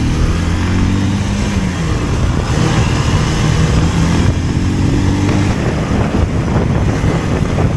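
A motorcycle on a crowded Sunday ride drones steadily up close, its engine hum mixed with heavy wind buffeting the microphone throughout, with no talk.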